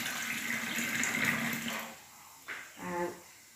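Water pours into a basin from a tap in a home kitchen, a steady rushing stream for about two seconds, then a short splash and a brief gurgle as it settles, with no talk.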